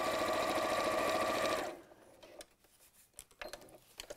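A sewing machine stitching thin fabric at increased speed runs loud and fast with a dense mechanical whir for about a second and a half, then stops, leaving scattered light clicks and handling noises.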